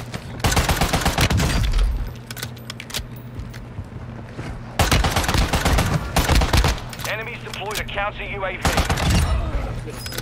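Powerful automatic weapon firing in Warzone on Ashika Island: loud, close, rapid bursts in two long volleys with brief pauses, under a steady engine-like hum and occasional voices.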